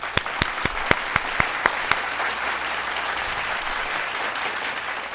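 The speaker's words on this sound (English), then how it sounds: "Please give all the early childhood education educators a round of applause." A crowd claps for early childhood education educators at a university education pinning ceremony, a broad wash of applause with several sharp, loud individual claps standing out near the start.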